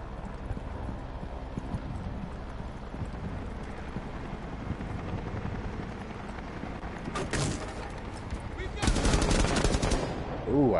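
Burst-fire gun shots from a PS4 shooter game ring out in a couple of sharp clusters late on, over a steady bed of game ambience and clopping hoofbeat-like noise.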